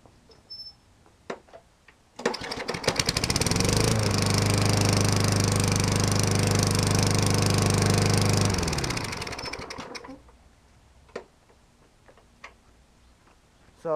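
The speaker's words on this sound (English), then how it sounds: "So let's cold start it." A lawn mower engine with a freshly decarbonised cylinder head cold starts with a sharp pull, then runs loud and steady at close range for about eight seconds before shutting down, leaving faint ticking afterward.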